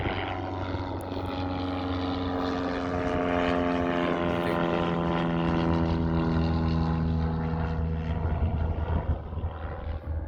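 A propeller airplane passes low over a hangar home beside an active runway, its engine drone loud and steady, harmonics sliding downward as it goes by and fades out.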